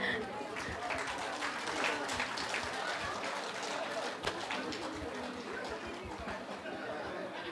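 Applause at a reception honoring a retired chief engineer, a faint, continuous patter of many hands clapping across the room with murmured chatter mixed in throughout.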